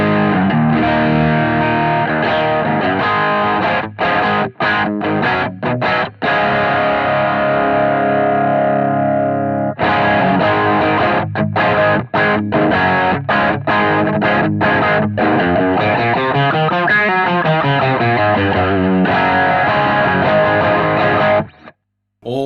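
Guitar through a Strymon Riverside overdrive pedal with the mid boost engaged plays loud, continuous distorted chords and riffs that stop abruptly at the end.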